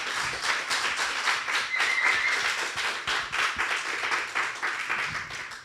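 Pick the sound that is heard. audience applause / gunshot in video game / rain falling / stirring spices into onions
audience applause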